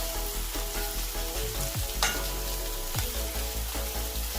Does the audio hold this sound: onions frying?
yes